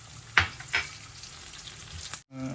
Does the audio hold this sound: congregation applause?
no